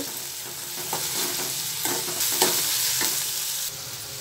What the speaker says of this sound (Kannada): ಈಗ ಈರುಳ್ಳಿ ಸ್ವಲ್ಪ ಎಣ್ಣೆ ಚೆನ್ನಾಗಿ ಬಾಡಲಿ.